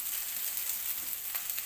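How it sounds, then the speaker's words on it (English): Steady high-pitched sizzling of meatballs shallow frying in a pan of oil, a continuous crackle with no talking. "I have been shallow frying my meatballs"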